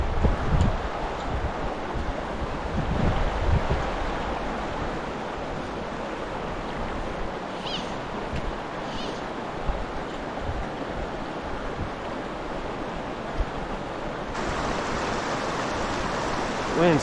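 Steady wind rushes across a forest stream pool in Pisgah National Forest, blending with the broadband wash of flowing water throughout, with a brief faint chirp in the middle.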